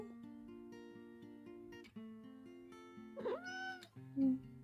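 A pet cat meows in a few drawn-out, rising calls, close to the microphone, with the last one louder and shorter, in a quiet indoor room.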